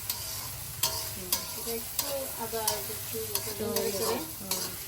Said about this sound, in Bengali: ইয়া মাছটা ভুনা করছি